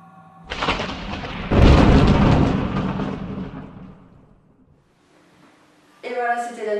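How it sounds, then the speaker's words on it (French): A huge thunderstorm rumbles outside, a loud, deep, roaring thunderclap that swells and slowly fades over several seconds, followed by a quieter stretch before talking resumes at the end. "il y a un énorme orage dehors en ce moment"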